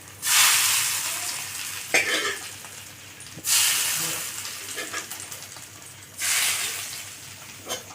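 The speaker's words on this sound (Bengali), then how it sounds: "ভাজা হয়ে গেছে, এখন এখানে খিচুড়িতে ফোড়নটা দেওয়া হচ্ছে।" Hot oil tempered with dried red chillies, panch phoron, ginger paste and bay leaves is poured into vegetable khichuri, giving three loud sizzling bursts that each fade, with faint stirring in between.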